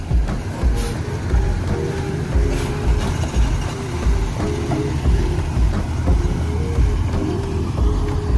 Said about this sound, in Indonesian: ini adalah bus yang keempat masuk Terminal Balai Solok.